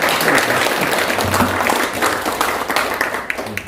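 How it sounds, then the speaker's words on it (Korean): A forum audience in Jeongseon, Korea, gives a round of thankful applause, loud and dense at first and then gradually thinning and fading toward the end. "감사의 박수 한번 올려주십시오."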